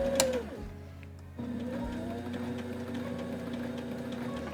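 A domestic sewing machine stitches fabric in a steady, fast mechanical whir, pausing briefly after a short burst and then resuming a continuous close-up run of needle clatter and motor hum.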